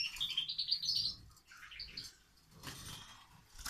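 Bright, high chirps and twittering from a goldfinch in an aviary, a few quick bursts separated by short pauses, fairly close and quiet.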